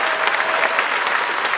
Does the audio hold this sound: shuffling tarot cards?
no